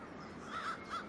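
Crows cawing in urban Halifax, a few faint, distant calls in a quick run over steady background ambience.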